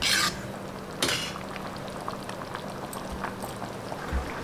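A pot of brinjal dry fish curry bubbles and simmers steadily at low volume, with an occasional clink of utensils against the pot.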